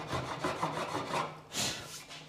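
A hand plane shears across the end grain of a wooden stool in a small workshop, making several rasping strokes in quick succession and ending with a brighter final pass, close up and with no voices.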